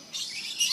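A small bird gives a brief high chirp while being fed, a single short thin call of under a second, close and fairly faint.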